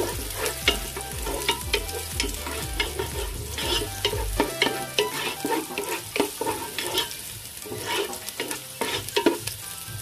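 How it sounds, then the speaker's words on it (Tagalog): Onions sautéing in a pan, a steady sizzle under repeated clanking and scraping strokes of a spatula, the low bubbling fading partway through while the stirring continues. "Sautein lang natin yung ating sibuyas."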